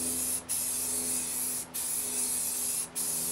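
Paint sprayed from a spray gun onto a lawnmower dump trailer, a loud close continuous hiss in long strokes broken by three brief pauses, with no talking.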